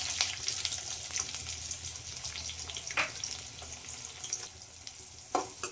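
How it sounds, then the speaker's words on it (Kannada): Chopped onion frying in oil in a pan with cumin and curry leaves for tomato chutney, a close, even sizzle with a few utensil taps and stirring scrapes. "ಈರುಳ್ಳಿ ಹಾಕಿದ್ದೀನಿ. ಸ್ವಲ್ಪ ಫ್ರೈ ಮಾಡ್ತೀನಿ ಚೆನ್ನಾಗಿ."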